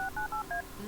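Telephone keypad dialing tones in the Kathy Rain video game, four quick evenly spaced DTMF beeps, clear and alone with no voice over them.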